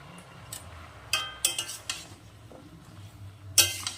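Chochchori vegetables with turmeric and green chillies being stirred in a pan, a utensil scraping and clinking against the metal in a few sharp, separate knocks over a faint background.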